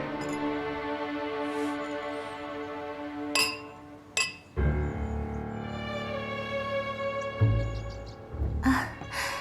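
Glasses clink together in a toast, several sharp ringing chimes over a sustained musical backdrop, with low sighs or breaths between them.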